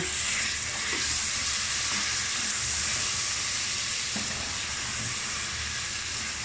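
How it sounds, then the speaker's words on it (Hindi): Mutton chops masala with turmeric fries in a pan, a continuous bright sizzle and hiss with faint stirring scrapes, close and steady, no voices. "पाँच मिनट तक इसको जो है आप भूनें"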